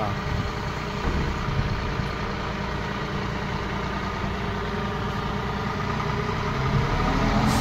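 A tractor with no front wheels, running on four wheels, hauls a heavy load of sugarcane, its engine a steady, close, continuous rumble that holds even throughout.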